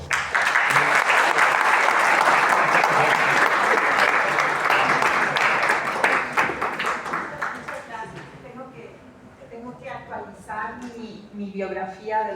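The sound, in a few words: audience applause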